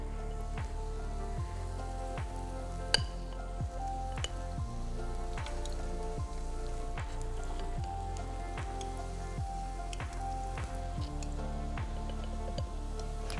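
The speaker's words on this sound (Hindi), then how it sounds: "पकौड़ों का मिक्सचर हम अपने गरम ऑयल में डालेंगे।" Pakora batter of finely chopped vegetables sizzling in hot oil, a dense steady crackle like rain on a surface, broken by frequent small pops and spits that stay close and even throughout.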